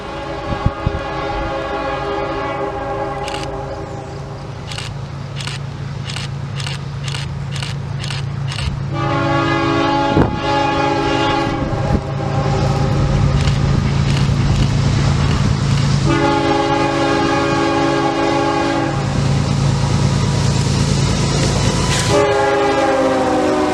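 A CSX Q159 intermodal train's horn blows for road crossings, a run of short blasts and then long sustained ones, loud and steady over the low rumble of the approaching train.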